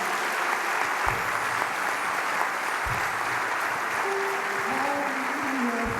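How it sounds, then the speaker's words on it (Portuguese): A church congregation applauds during a Sunday service, steady clapping at moderate level with a couple of low thumps and faint voices mixed in the background. "A igreja vai aplaudir em nome de Jesus."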